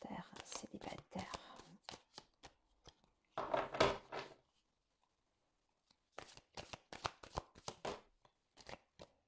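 Tarot cards are shuffled close by in quiet bursts of rapid riffling and tapping, separated by short pauses and silent stretches, with no voice over them.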